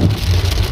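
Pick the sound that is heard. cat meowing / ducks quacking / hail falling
hail falling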